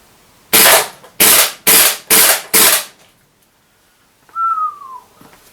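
A KWA KZ61 gas blowback airsoft SMG fires five sharp, loud, rapid shots close by, followed by a quiet pause and a rising-falling whistle.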